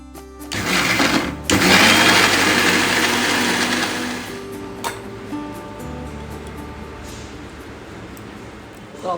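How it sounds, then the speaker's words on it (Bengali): A kitchen mixer grinder grinds soaked mustard seeds, poppy seeds and a few cashews. It opens with a loud, close whirring roar for several seconds, then settles to a lower, steadier hum with light clinks. "এখন আমি এই যে আজকে মিক্সিতেই বাটবো"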